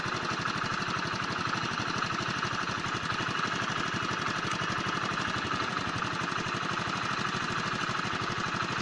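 A Hero 100cc motorcycle engine idles steadily and close by while its carburetor screw is adjusted, a continuous even putter with a faint knocking texture and no talk over it.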